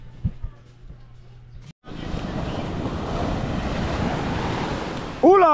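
Broad roar of sea waves washing on a calm shore, loud and continuous after a brief low hum at the start, with wind buffeting the microphone.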